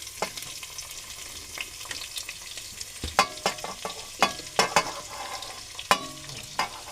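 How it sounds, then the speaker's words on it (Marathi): Onion and tomato sizzle together in hot oil, with a steady frying hiss under irregular clinks and scrapes from stirring that peak in several sharp hits near the middle. "आपलं तेल चांगलं तापलंय कांदा टाकते कांदा कांदा आणि टोमॅटो एकदम टाकते"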